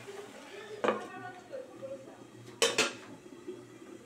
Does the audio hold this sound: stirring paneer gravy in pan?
yes